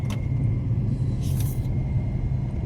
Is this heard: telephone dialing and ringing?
no